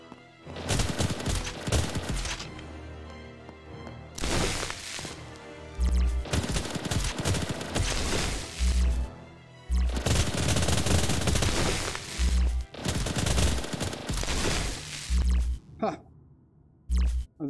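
Repeated bursts of gunfire from a weapon in the VR shooter Boiling Steel, loud close volleys broken by short pauses, with a voice talking at times between shots.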